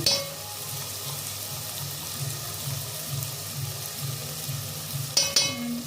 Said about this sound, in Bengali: অল্প অল্প করে মাংসটা কষাবো।